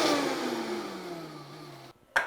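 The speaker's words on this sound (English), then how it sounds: "Blend this up." A countertop blender whirs through salad ingredients with olive oil, its motor pitch sliding steadily downward before stopping, then a brief sharp burst as it restarts.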